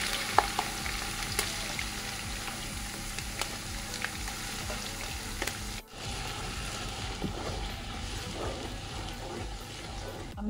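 Whole spices and blended nuts, including nutmeg and mace, fry in a mix of ghee and oil for beef rezala, giving a steady close sizzle and crackle with occasional stirring; the sound briefly cuts out near the middle before resuming.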